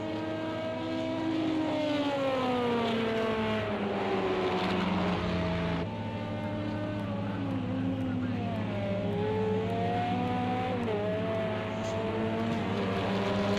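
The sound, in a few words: race car driving around corners at speed, from a racing video game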